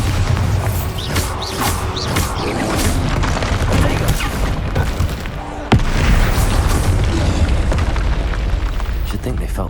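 A Bombarda spell explodes in the video game Hogwarts Legacy, unleashing a loud, dense booming blast with crashing debris that rumbles on continuously, with a sudden sharp burst partway through.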